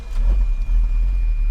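Ferrari 360 engine starting up, a low, loud mechanical rumble close by with a brief dip before settling into a steady idle.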